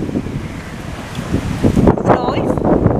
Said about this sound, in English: Excuse the wind as well, guys, because it's quite windy now.